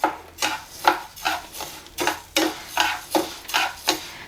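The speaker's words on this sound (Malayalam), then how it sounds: "അത് നമ്മൾ ഈ പാത്രത്തിലേക്ക് ഇട്ട് കൊടുത്തിട്ട് നന്നായിട്ട് അങ്ങ് വറുത്തെടുക്കാം" Rhythmic scraping of a spoon stirring rice dry-roasting in a metal pan, about ten regular strokes, close and clear with no talking.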